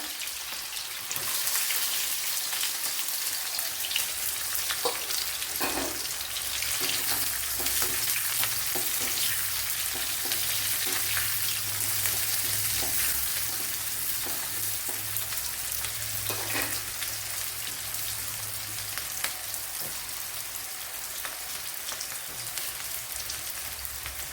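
Onion frying in a pan for a pumpkin curry, a dense continuous sizzle like steady rain, close and loud, with occasional stirring knocks.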